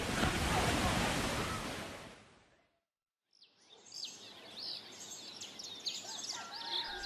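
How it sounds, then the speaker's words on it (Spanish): Heavy surf roaring loudly as huge tsunami waves sweep a coastline, a dense wash that fades to silence, then quieter rushing water with chirping birds. "Pero las enormes olas siguieron arrasando todo el litoral."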